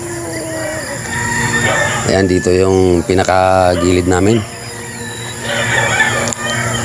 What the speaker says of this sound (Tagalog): ipapakita natin sa inyo ang mga manok dito